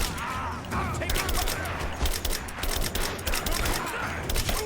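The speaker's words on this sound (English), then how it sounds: "Goddamn, I really don't like this assault rifle." Rapid assault rifle fire in the video game Rise of the Tomb Raider, loud dense bursts of shots crackling continuously over a rumbling battle background.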